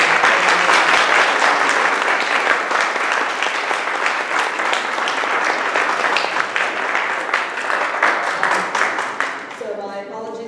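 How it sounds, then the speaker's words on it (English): A round of applause at a community meeting about schools, dense and sustained for most of its length before fading, with a voice starting to speak as it dies away. "Can we get a round of applause for..."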